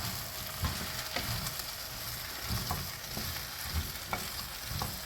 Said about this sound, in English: Now I am going to add the pumpkin pieces. So give it a good stir.